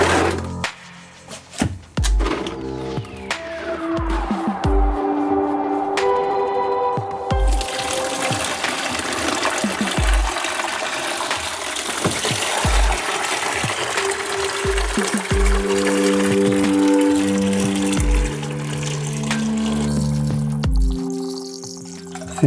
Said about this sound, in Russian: Сейчас сливается из самого нижнего отверстия сам абразив. Это стеклошарики с водой и грязью.